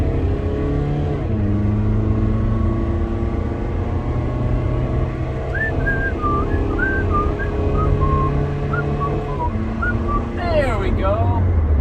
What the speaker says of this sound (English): This is a 2003 Jetta TDI wagon, automatic. We're gonna go right now and see what it's got.